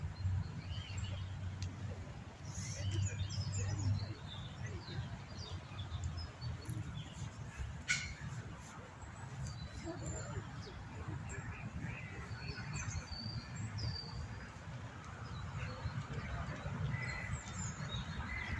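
Scattered bird chirps sound here and there, some distant, over a low rumbling outdoor background in Parc Monceau, Paris, France.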